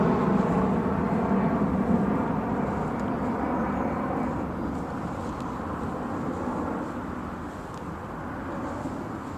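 Alaska Airlines airplane flying overhead above a home garden, a distant broad steady roar that slowly fades, with no talk.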